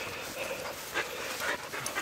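Several Labrador retrievers pant steadily and breathily at close range, a continuous rapid rhythm with faint background noise and no talking.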